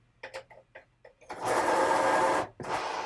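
A pencil sharpened for painting gives a few soft scraping strokes, then a sustained close whirring grind of about a second, as from a small electric sharpener, followed by a brief restart.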